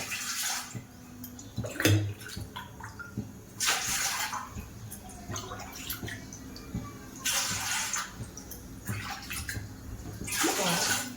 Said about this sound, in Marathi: मी याच्यात 6 ग्लास पाणी घालणार आहे.